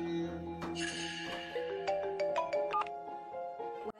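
Telephone ringtone for an incoming call at an office, a melodic electronic tune of repeated tones playing alone at moderate level for several seconds before cutting off.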